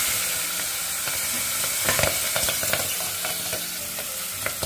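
Fresh green peas and ground garam masala frying on low heat in a pan, with a steady loud sizzle and repeated scraping stirs throughout, no voices.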